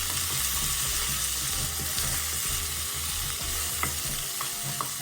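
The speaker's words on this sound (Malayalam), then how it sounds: "അതൊന്ന് ചൂടായി വരുമ്പോൾ ഒരു 3 സ്പൂണോളം വെളുത്തുള്ളി ചെറുതായി കട്ട് ചെയ്തത് ചേർത്ത് കൊടുക്കാം" About three spoons of finely chopped garlic frying in hot oil in a pan, a steady close sizzle with repeated scraping stirs and a low rhythmic knocking underneath.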